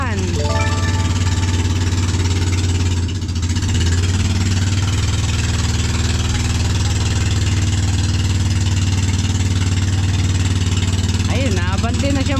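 A boat's engine runs loud and steady at close range, a deep continuous droning hum with little change in pitch, while people talk over it.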